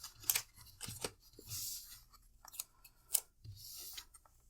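Scissors snip through a paper planner sticker in several short, quiet cuts, close by, with soft rustling of paper between snips and no talking.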